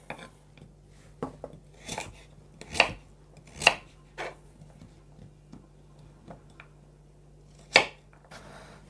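A knife chops peeled pumpkin into large cubes on a board. The cuts land as sharp, irregular knocks, a few louder than the rest, close by in a quiet kitchen.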